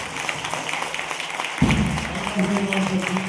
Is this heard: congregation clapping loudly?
yes